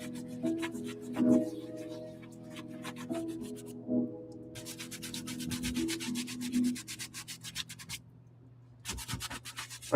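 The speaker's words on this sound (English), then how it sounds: "I'm not using any other brush but this really light, soft, light bristle brush." A soft, light-bristle brush scrubs soapy Nike Foamposite sneakers in a series of rhythmic rubbing strokes with short pauses, close up over a steady low hum.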